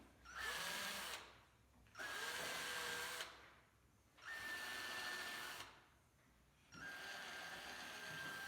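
A power drill whirs in four bursts of about a second each, separated by short pauses, close and fairly quiet, as the bit marks wood while building a Fender-style Jaguar guitar.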